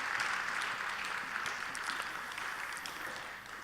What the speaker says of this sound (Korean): 우리 박수로 한번 환영하겠습니다.